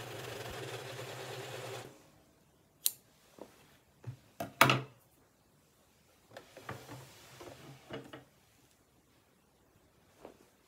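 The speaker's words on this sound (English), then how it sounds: "1 more line of straight stitching and this cushion cover will be finished" A sewing machine stitches a straight line on a cushion cover, a steady close whirring run for about two seconds, followed by scattered clicks, rustles and handling noises of fabric.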